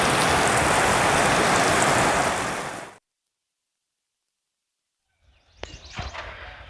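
Heavy rain pours steadily over open rice fields with a loud, dense hiss that cuts off abruptly, followed by silence and then faint knocks and rustles.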